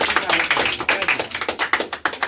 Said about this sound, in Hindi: इसके लिए भी थोड़ा जोरदार ताली हो जाए